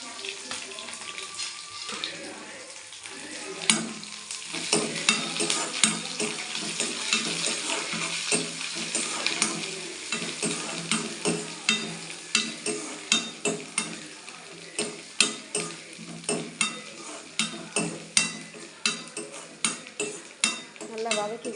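Grated coconut and curry leaves sautéing in a pan for aval upma, a soft sizzle under frequent rhythmic scraping and stirring strokes of a spoon against the pan, fairly close.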